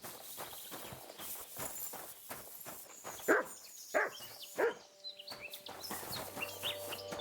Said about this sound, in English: it's a pack of wild dogs.